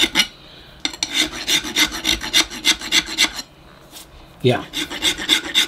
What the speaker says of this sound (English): I'm going to try this rasp.